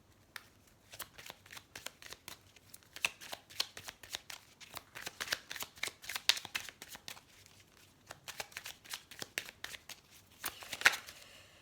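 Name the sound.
shuffling tarot cards for a reading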